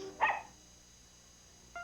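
A dog in a 1985 Miller Lite beer TV commercial gives a single short, sharp bark near the start, then quiet follows before a faint tone at the end.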